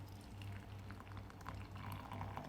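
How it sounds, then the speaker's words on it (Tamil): Dissolved kummayam mixture poured through a cloth strainer into a vessel, a faint continuous liquid trickle and splash with low background hum throughout. "பாத்திரத்தில் இந்த மாதிரி துணி போட்டுட்டு அதில் வடிகட்டணும்."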